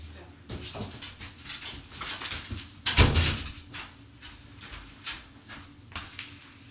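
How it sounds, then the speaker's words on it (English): A dog moves about nearby, with soft whimpers, scuffling and a brief knock partway through, amid light household rustling. "Dakota, I have to go check my dog."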